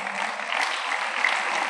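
Congregation in a church service clapping steadily together, a dense, continuous wash of applause at moderate loudness with no voices standing out.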